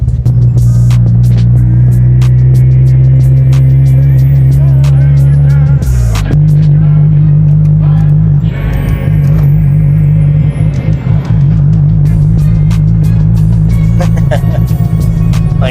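Mazda Miata project car driving along, with a steady low engine drone and throbbing road rumble throughout, a shift in engine note partway through, and music or voices faintly over it.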